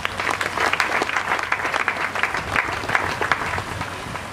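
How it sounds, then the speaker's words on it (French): A church congregation gives sustained applause, loud and irregular, as an elder takes his seat, with a faint voice underneath. "Il peut s'asseoir sous nos applaudissements."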